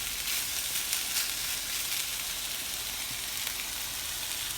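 Cold, sticky pre-cooked rice fries in a pan for Chinese fried rice, a steady, even sizzle of moderate volume with faint stirring ticks, no voices.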